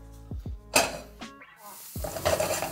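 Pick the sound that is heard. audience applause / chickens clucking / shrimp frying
shrimp frying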